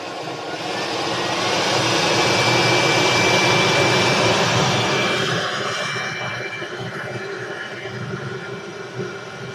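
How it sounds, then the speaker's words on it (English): A torch roars steadily as it lights dense coconut shell charcoal in a Komodo Kamado 32-inch Big Bad ceramic grill, a loud continuous blowing hiss that swells in the middle and eases slightly toward the end. "see how fast the torch gets things going"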